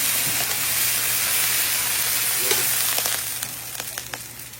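Lomi noodles frying with plenty of eggs on a hot cooking surface, a loud continuous sizzle with a few scraping stirs near the end and no talk.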